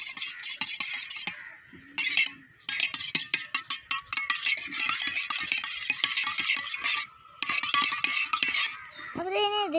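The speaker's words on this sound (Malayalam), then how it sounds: "஫സ്റ്റ് ഇതൊന്ന് ഇളക്കിയെടുക്കാം കേട്ടോ." A spoon briskly stirs a batter of wheat flour and egg in a bowl, close up. Quick rhythmic scraping and clinking strokes come in bursts separated by short pauses, with no voice.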